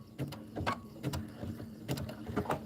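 A home sewing machine stitches a fabric-wrapped rope bowl in short, uneven bursts of whirring and clicking, close and moderately loud, with pauses between runs, no voices.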